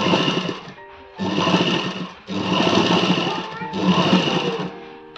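A domestic sewing machine runs in three long bursts of steady motor whir with brief pauses between, loud and close, while stitching a bra-cut blouse.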